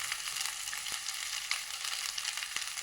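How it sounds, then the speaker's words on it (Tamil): Rice tipped into a pan of frying paneer, carrots, green chillies, ginger and garlic crackles in a close, steady sizzle with small scattered pops and stirring scrapes, and no voices. "இப்போ ரைஸ் போட்டுக்கலாம்."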